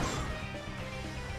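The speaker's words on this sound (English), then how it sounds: "Luke, smash that button." A button is smashed in the video game Secrets of Grindea, a brief crashing whack blended into a busy, steady game soundscape with no clear separate impact.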